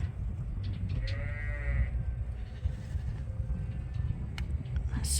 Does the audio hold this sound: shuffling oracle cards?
no